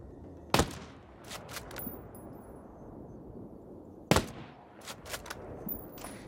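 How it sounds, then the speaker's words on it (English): A Zastava M93 sniper rifle in Ghost Recon Breakpoint fires two sharp, heavy shots a few seconds apart, each followed by a trail of brief cracks and clatter, with quieter mechanical sounds in between. "I might use the Zastava M93 and just shred through people"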